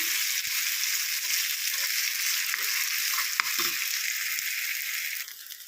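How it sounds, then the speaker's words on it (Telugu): Chicken frying in a pan for chutney, a bright continuous sizzle close by with a few soft knocks and taps of a spoon, tapering off at the end, no voices. "two minutes వేగనిద్దాం"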